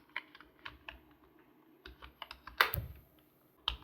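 Keystrokes on a computer keyboard while Python code is typed, arriving as scattered light clicks in short runs, with a louder cluster of taps near the end and no talking.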